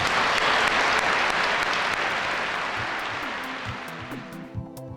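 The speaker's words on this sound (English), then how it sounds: "Let's have a round of applause for Mr. Nagashima" Museum audience applauding for Japanese tattoo artist Mr. Nagashima: dense, steady crowd clapping that gradually thins and fades toward the end, with a faint voice emerging at the close.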